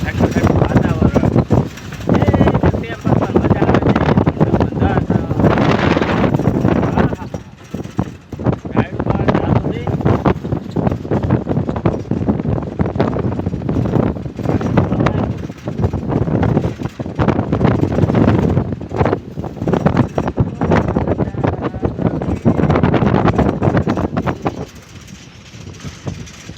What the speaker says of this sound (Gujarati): શિયાળાનો ઠંડો ઠંડો વાયરો ઠંડુ ઠંડુ વાતાવરણ.